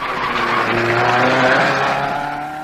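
A 1958 Coupe des Alpes rally with a Porsche and an Alfa racing, engines revving loudly and close with a rising and falling tone and tire squeal, continuous throughout with no talking.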